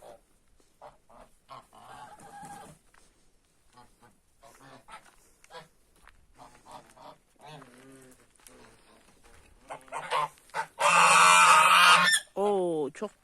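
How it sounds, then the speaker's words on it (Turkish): Quiet talk and scattered noises on a farm on a foggy morning give way to a loud burst of geese honking together near the end, close and raucous. "kazlarımız burada"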